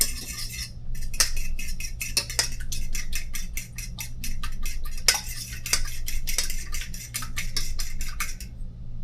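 Cornbread batter being mixed by hand in a bowl from scratch, a rapid run of close, crisp utensil clicks and scrapes against the bowl over a low steady hum, pausing briefly before the strokes stop.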